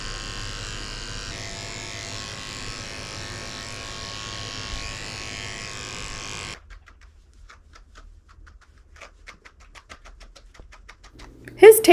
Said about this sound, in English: I'm shaving him a potty path with a 10 blade, which is pretty much bald